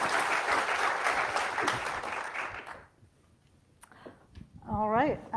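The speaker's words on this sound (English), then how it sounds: "If you can stand and receive an applause here" Audience applause for Maria Saporta at a climate business panel, a dense burst of clapping lasting under three seconds before cutting off, followed by quiet and then a person speaking close by.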